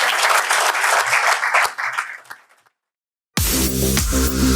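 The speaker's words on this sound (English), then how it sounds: "let's give a round of applause for our final" An audience at a telecoms and AI conference claps for the closing panel, loud applause that thins and fades to silence, followed by a burst of music.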